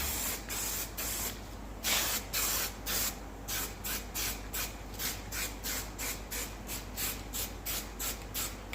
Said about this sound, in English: Now, primer, usually always your light dusting coatings, right?